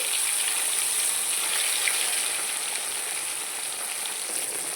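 Fish pieces fry in hot oil with a steady, dense sizzle and bright crackle that holds close and even throughout, no voices over it.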